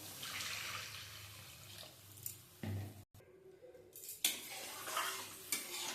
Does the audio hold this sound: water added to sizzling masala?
yes